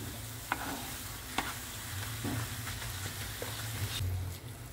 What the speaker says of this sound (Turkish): Kaşar peynirimi de patlıcanla unla birlikte eriyene kadar karıştırıyorum.